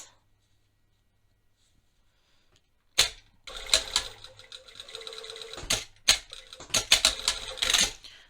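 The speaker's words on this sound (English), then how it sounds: "I'm just going to sew this at 1/2 of an inch seam allowance." A sewing machine stitches a half-inch seam along the back pieces of a pair of jeans, starting after nearly three seconds of quiet. It then runs in several fast, clattering bursts with short pauses between them, close and loud.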